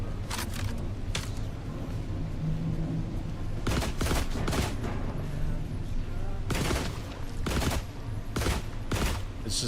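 Explosive-round gunfire in the video game The Last Caretaker, heard as several loud bursts of blasts in clusters over a constant low rumble of game ambience.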